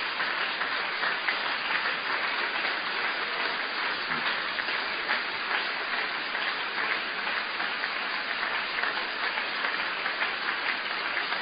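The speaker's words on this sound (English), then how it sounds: "Thank you, those of you who are clapping." A church congregation claps during a sermon, a dense, steady wash of many hands that holds at an even level the whole time, with no voice rising above it.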